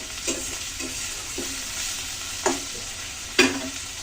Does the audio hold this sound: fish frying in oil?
yes